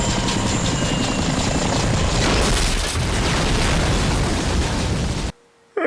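An explosion in an action film roars as a dense, sustained blast of rumbling noise with debris-like crackle, loud and continuous for several seconds before cutting abruptly to near silence.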